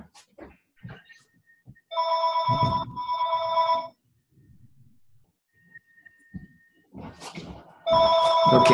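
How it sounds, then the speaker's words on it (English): A telephone rings during a lecture in two long electronic ring bursts, a pause with faint rustling and brief sounds, then a third ring starting at the end; no speech. "Can't figure out how to turn off the volume. I never get phone calls."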